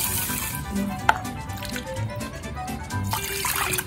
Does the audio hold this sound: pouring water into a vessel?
yes